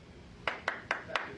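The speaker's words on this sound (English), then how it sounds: "It's almost like the slow clap." Slow clapping in a locker room by a lone person: five sharp, evenly spaced claps, one roughly every quarter second, standing out clearly against a quiet room murmur with nobody joining in.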